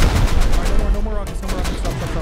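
Rocket launcher fire in the Rust video game: a loud, dense burst of explosive blasts and gunfire-like impacts rolling continuously with no clear gaps, close and heavy throughout.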